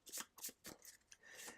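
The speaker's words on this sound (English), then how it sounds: "So we're going to shuffle up these" A small stack of cards for the board game Coimbra is shuffled up close in quick, crisp riffling bursts, four or five short rounds with brief pauses between them.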